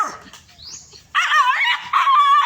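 Several dogs bark and yelp in quick bursts, fairly close, with high excited whines between the louder barking runs.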